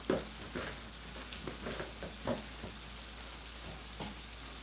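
Chicken pieces frying in hot oil in a pot over raised heat, a steady crackling sizzle with scattered pops and bursts, close and moderately quiet, with no voices.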